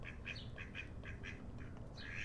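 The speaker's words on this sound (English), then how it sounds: "days he's a good duck. Some days he's kind of cuckoo." A pet duck quacks repeatedly in a steady series of short, nasal calls, close and fairly loud over a low, constant background rumble.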